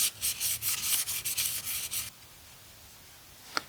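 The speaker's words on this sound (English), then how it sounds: "2000 grit. Just take the edge off, any burrs." Sandpaper of 2000 grit rubs quickly back and forth on a part from a 1995 F150 302 engine, making a close, raspy scrubbing in short strokes for about two seconds before it stops, followed by one faint click.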